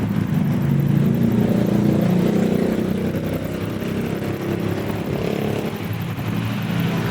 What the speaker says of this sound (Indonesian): Deru mesinnya kan hampir nggak ada